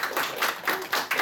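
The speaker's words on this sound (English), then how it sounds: "Give Andy a round of applause, guys." Brief audience applause at an anime-convention quiz game, a soft rippling patter of clapping hands from a room of people, rising in a few uneven bursts.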